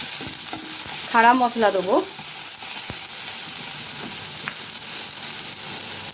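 Chopped tomatoes fry with onions in a pan for a dal, giving a continuous bright sizzle, while a voice speaks briefly near the start.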